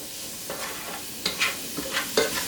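Ingredients seasoned with black pepper sizzle steadily in a pan while being stirred, making several scraping strokes and clinks in an irregular rhythm, close and fairly clear.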